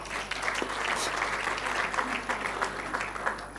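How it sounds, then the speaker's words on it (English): Round of applause from a seated conference audience for a panel discussion, a brief steady patter of many hands clapping at moderate distance, with no talk over it. "may we give the panelists a round of applause"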